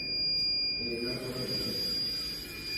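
An autonomous exploration robot's gas detection alarm sounds a steady, high-pitched electronic buzz, loud and close, with a low rumble and voices underneath.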